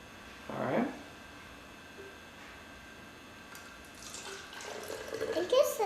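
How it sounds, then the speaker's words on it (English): A child pours water into a glass, a soft trickling splash that builds toward the end, with a brief voice and light clinks early on. "I want you to pour water in here till you think it's the same as that one."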